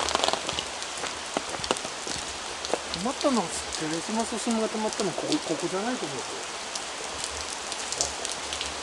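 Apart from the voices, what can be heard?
heavy rain falling at a shrine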